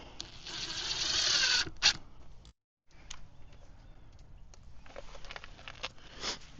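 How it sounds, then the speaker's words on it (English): Screws are driven into the plywood under a log cart seat: a short, close whir of a power driver opens, followed by quieter clicks, taps and handling noises after a brief silence. "These screws are going into the plywood"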